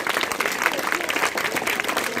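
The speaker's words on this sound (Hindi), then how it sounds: "जोरदार तालियां बजती रहे।" A crowd claps steadily at a school principal's farewell ceremony, a brief continuous patter of applause with some voices mixed in.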